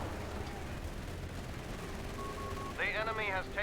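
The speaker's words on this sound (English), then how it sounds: "Heavy machine gun, grenadier squad. Really getting the fire down." Heavy machine gun fire rattles in a Company of Heroes 3 match, a continuous dense layer of gunfire and battle noise with sharper bursts near the end, under a commentator's voice.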